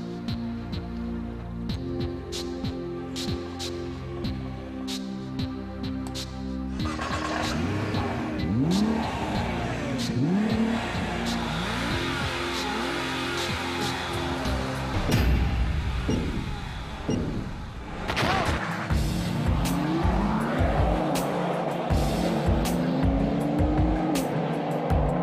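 Nissan GT-R and Porsche Turbo accelerate hard side by side in a drag race on the Nordschleife, engines roaring and revving loud and close through gear changes, with brief tire squeal and a steady rising drone.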